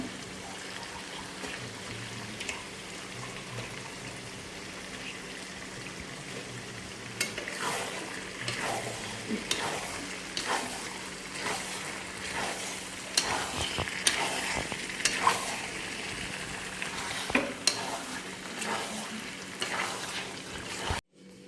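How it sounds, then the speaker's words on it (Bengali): Marinated butter chicken sautéing in oil in a pan, a steady close sizzle with repeated scraping stirs that grow busier partway through, no voices. "তো চিকেনটা কষানো হচ্ছে"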